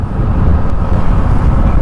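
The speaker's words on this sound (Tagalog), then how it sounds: "medyo malakas yung hangin dito no" Steady, heavy wind roars and buffets the microphone for the whole stretch at a waterfall in Aurora Province, a dense low rumble with no letup.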